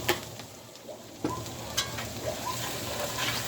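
Chicken pot pie filling with heavy whipping cream being stirred in a pot, giving a soft continuous scraping and gentle bubbling with a few sharper utensil knocks, close and steady, no voices.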